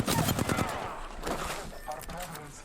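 Gunfire bursts in the online shooter Apex Legends, a dense volley of rapid shots up front that trails off into scattered firing, with players' voices talking over the fight.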